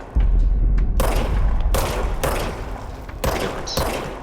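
Shots from the service weapon in the video game Control, several heavy booming blasts separated by short gaps, loud and close, each with a sharp attack and a rumbling tail.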